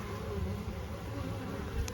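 Dense, continuous buzzing of many bees up close in a Layens hive during a spring inspection, a steady droning swarm with no voices.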